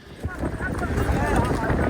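Donkey cart hooves clip-clop steadily on the ground amid busy outdoor noise and a murmur of voices.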